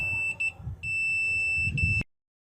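A multimeter sounds a high, steady electronic tone during a continuity check on a refrigeration unit's high-pressure switch: two brief beeps, then a longer held tone lasting about a second before it cuts off abruptly.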